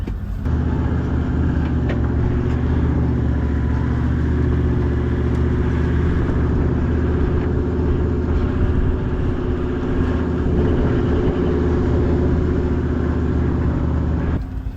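A 4WD towing a caravan through soft beach sand at Kinkuna National Park, its engine holding a steady, loud mid-pitched drone without full throttle for the entire stretch, no voices.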